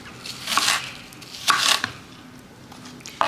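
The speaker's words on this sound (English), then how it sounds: "I'm gonna chop this whole onion" Knife chopping a whole onion on a cutting board, a few separate bursts of cuts with quiet gaps between them, close and moderately loud.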